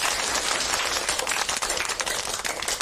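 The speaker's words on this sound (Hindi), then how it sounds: "चलो, उसके लिए तालियां बजाते हैं।" Applause for a student in a classroom: dense, steady clapping from a group, bright and continuous for a few seconds with no voices.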